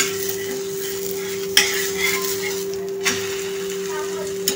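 A semolina and gram flour mixture roasting in a pan while a spoon stirs it, giving a steady soft sizzle with a few sharp scrapes and clinks against the pan at close range. A faint electrical hum runs underneath.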